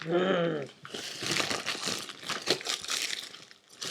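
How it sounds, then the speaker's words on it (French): Paper packaging crinkles and rustles close by in steady, crackling handfuls after a brief voice at the start. "Excusez-moi pour les bruits de papier"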